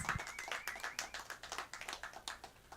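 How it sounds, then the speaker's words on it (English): Scattered, fairly quiet clapping from a small open mic audience at a showroom, steady irregular claps across the moment with a brief tonal ring near the start. "we need a warm applause for Claire, please"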